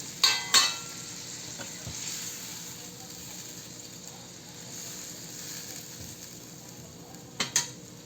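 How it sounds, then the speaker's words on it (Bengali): Fish slid into a pan of cooked-down spices and about a cup of water, then a steady low simmering hiss with a few sharp utensil clinks near the start and end. "এবার মাছটাকে আমি ঢেলে দিলাম।"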